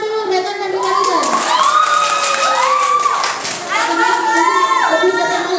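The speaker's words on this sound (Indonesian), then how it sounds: "Tepuk tangan dulu rekan dan rekanitas" Indoor audience at an inauguration ceremony erupting in loud cheering and shouting, voices whooping and calling out together in a sustained, close, busy roar.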